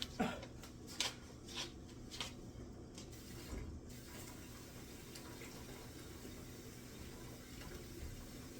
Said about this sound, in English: I'm going to put a little drop of water